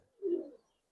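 A single soft, low coo from a Giribaz pigeon, a silver military breed, close by, brief and alone in quiet surroundings.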